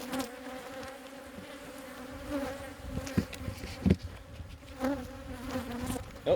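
A honeybee swarm buzzes near a booming hive while boxes are added, a continuous droning hum with individual bees zipping close past now and then, fairly faint and with no talk.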